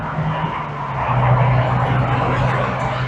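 Steady road roar with a deep low rumble as a lorry passes close by, recorded with noise cancelling on, continuous and fairly loud throughout.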